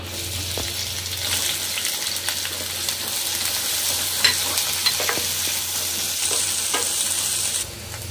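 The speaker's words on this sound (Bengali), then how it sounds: "নেড়ে চেড়ে আমি এটা বাদামি করে ভেজে নিচ্ছি।" Chopped onions fry in hot oil with a steady, close sizzle, broken by the scrape and clatter of stirring, until the sound drops away near the end.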